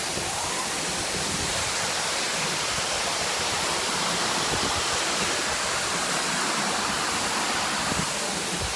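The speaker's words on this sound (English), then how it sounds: "Good waterfall action." A waterfall in Tennessee gives a steady, dense roar of rushing water, close and unchanging, with no break in the wash of sound.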